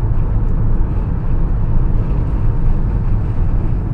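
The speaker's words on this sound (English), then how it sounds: "But one issue that I face with the X50 is still relevant, at least with this particular unit, which is wind noise." Intrusive wind noise roars inside a Proton X50 SUV driving at speed, a loud, steady broadband rush with a low rumble underneath and no talking.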